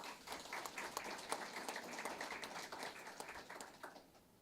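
Applause from an audience at a career and technical education letter-of-intent signing day honoring welding students, with scattered claps that sound moderate and somewhat thin.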